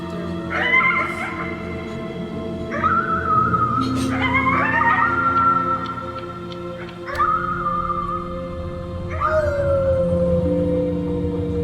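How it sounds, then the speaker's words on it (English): Howling at the moon in the video game Before Your Eyes, a series of loud, close, wavering howls that rise and fall in pitch, repeated over several seconds with a low background bed. "You howled at the moon at the top of your lungs."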